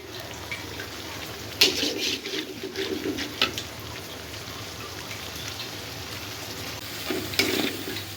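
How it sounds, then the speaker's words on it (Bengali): Spices frying and sizzling in oil in a pan while being stirred, a continuous close crackle with intermittent spoon scrapes and brief louder bursts. "আর এই যে মশলা কষাচ্ছি মশলাটা সুন্দর করে কষা নিতে হবে"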